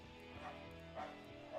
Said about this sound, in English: I apologize for any background noise because dogs can be crazy